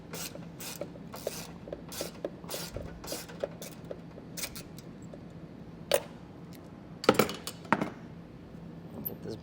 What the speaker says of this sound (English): Get this bolt pulled out.